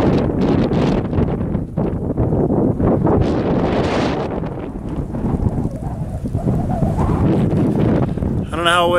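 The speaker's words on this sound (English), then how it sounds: "It's rather windy, but made it to the top." Strong wind buffets the microphone on a Colorado mountain top during an elk hunt, a constant roaring rumble that stays loud throughout, with someone speaking faintly beneath it.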